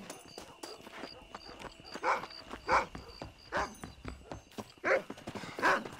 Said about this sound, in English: You have dogs going crazy.